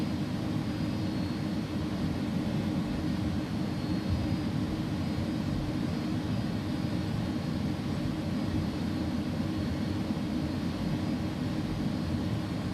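Jet engines of a DHL Airbus A300 taxiing in the X-Plane 11 flight simulator, heard as a steady, low, even roar with a faint whine that holds constant the whole time, with no talking.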